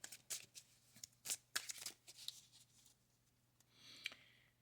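Mythic Tarot cards shuffled by hand in quick riffling bursts, close and crisp, then fading into softer sliding and a last brief shuffle, with no talking.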